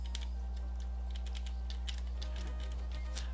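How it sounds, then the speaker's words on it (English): Rapid, irregular clicking of keys on a computer keyboard during a Zelda game, close and fairly loud over a steady low electrical hum. "Still getting used to playing this on a keyboard."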